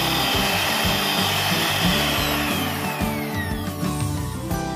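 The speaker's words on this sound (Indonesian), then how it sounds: "Kemudian di mixer hingga mengembang dan berjejak ya bun." Electric hand mixer whipping whipped cream with sweetened condensed milk in a mixing bowl, a steady loud motor whir with rhythmic rattling of beaters against the bowl, continuous throughout with no talking.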